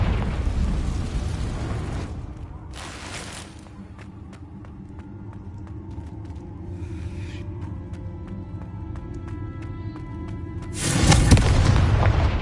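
Booming spell blasts from the Confringo fire curse in a Hogwarts video game: a heavy explosion opens, another hits near three seconds, a crackling, ringing rumble lingers, and a final loud burst lands near the end.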